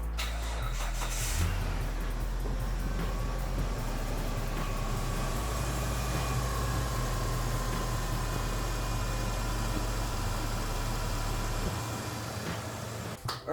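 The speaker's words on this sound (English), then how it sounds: "I'm just going to start the car now and we'll make sure it doesn't fly off" A car engine runs after a belt replacement, holding a steady, low, close idling drone that carries on evenly for several seconds before cutting off near the end.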